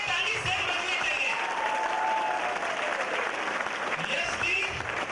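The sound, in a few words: applause, people clapping for everyone at a stage event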